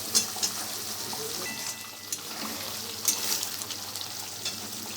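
Paneer and capsicum curry sizzles in oil in a pan, a steady soft frying crackle with light stirring scrapes and small pops, close and continuous with no talk.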